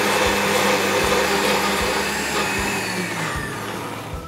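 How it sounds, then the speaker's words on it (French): A food processor whirs steadily, blending cooked sweet potato into a smooth purée, a loud continuous motor drone with faint rhythmic thumps, tapering slightly toward the end, with no voices. "Après, on va les mixer dans le bol du kitchen. Donc on va mixer jusqu'à avoir une purée bien lisse."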